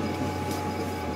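A laser engraving machine runs during an engraving job, making a continuous low hum with a faint whirring hiss. The sound is steady and close, with no voices.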